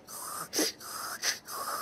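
A voices a cartoon snoring imitation, a rhythmic series of breathy snorts and wheezy exhales, close and fairly quiet.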